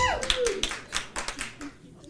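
A few audience members at a storytelling event clap briefly, a sparse handful of claps under a voice, fading out after a couple of seconds.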